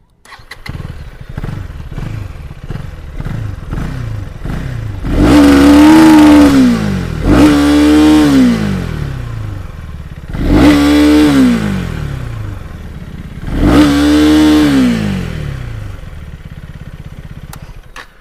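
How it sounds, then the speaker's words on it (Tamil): Motorcycle engine idling with a low, even putter, then revved hard four times as the throttle is opened, each rev rising and falling away; loud and close, no talk. "நான் த்ராட்டல் பண்ணி காமிக்கேன் எப்படி இருக்குன்னு பாருங்கள். வண்டியோட த்ராட்டல் இப்போ பாருங்கள்."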